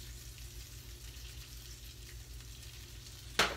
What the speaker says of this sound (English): If you've never had green beans cooked in bacon grease, you're missing out